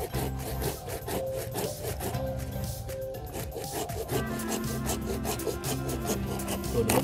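Hand saw with a new, sharp blade biting steadily through wood, a continuous rasping stroke rhythm lasting throughout, close and moderately loud, with no voices over it.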